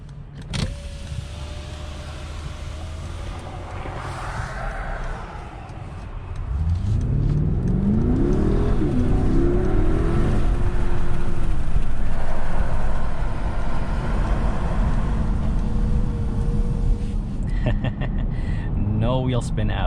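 A 2021 Mercedes GLS 580 SUV with 4MATIC all-wheel drive accelerates hard from a standstill, its engine note rising into a loud sustained roar with a strong low rumble heard from inside the cabin.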